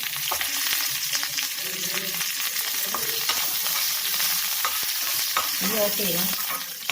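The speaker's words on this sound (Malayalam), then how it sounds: "ഇനി കറിവേപ്പിലയും കൂടെ ചേർത്ത് നന്നായിട്ട് മൂപ്പിച്ചെടുക്കാം" Curry leaves crackling and frying in hot oil for tempering a traditional Kerala yam and dried fish curry, a steady dense sizzle with sharp pops and spatters throughout, close and loud with no voices.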